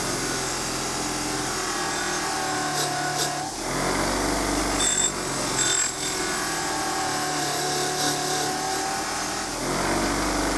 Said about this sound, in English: Unfortunately, it's a bench grinder, not a buffing machine, so it's not meant for this.